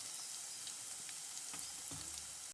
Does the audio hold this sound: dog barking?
no